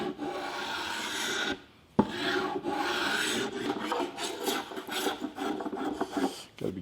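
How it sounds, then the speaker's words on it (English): Hand sanding along the edges of a walnut mantel produces a continuous rough rasping scrub, close and fairly loud, with a brief pause and a sharp knock before the strokes resume in uneven rhythm. "I'm going to do it with just some good old hand sanding and maybe a little bit of a spoke shave"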